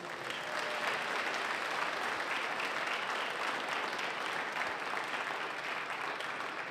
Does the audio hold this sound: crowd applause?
yes